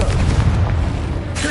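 A Confringo blasting spell going off in a Harry Potter video game: a booming, fiery explosion with a heavy low rumble that fills the whole moment, layered with other game sounds.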